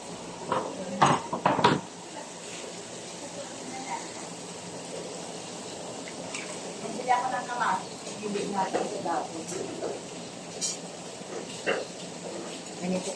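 Food being stirred in a metal pot with a utensil, scraping and clinking in short bursts, loudest near the start, with quieter intermittent stirring later under faint background voices.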